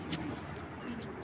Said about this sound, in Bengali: মাশাল্লাহ ফার্স্ট ক্লাস একজোড়া সাপচিলা কবুতর।